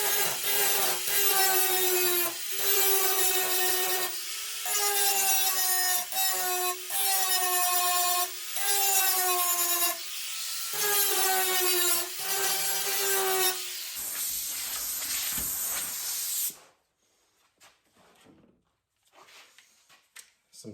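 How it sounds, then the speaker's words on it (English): Grinder taking down welds on 1974 Ford Bronco body metal: repeated loud whining passes with falling pitch as the disc bites, separated by short pauses, then a harsh hiss before it spins down into near silence. "Grind down my welds."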